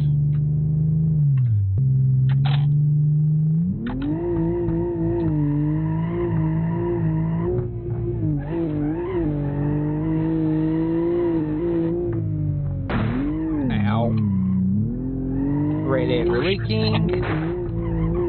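Game car engine revving and skidding with tire squeals, a loud continuous drone rising and falling in pitch, with laughing talk over it.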